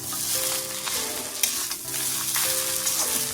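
Boiled noodles tossed and stirred in a hot pan for restaurant-style chicken noodles, a steady close sizzle and frying hiss with the scrape and clatter of stirring running throughout, no voices.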